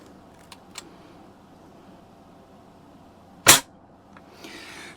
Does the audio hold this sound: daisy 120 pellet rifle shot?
yes